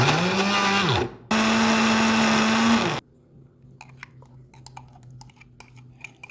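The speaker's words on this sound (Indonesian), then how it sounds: "Blender bahan bumbu halus dengan tambahan minyak." An electric blender whirs loudly for about three seconds, grinding spice paste ingredients with oil, with a short break partway through as the motor stops and restarts, then cuts out, leaving quiet kitchen clinks and small knocks.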